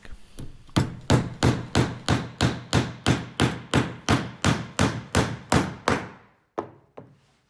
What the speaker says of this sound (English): The claw hammer works best with larger nails and spars and fixings alike.